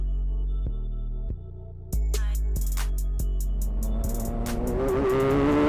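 A race car on track at Croft circuit, its engine roaring loudly and close from onboard, pitch dropping through gear changes then climbing steadily as it accelerates, with clicking and rattling over the top and no talking.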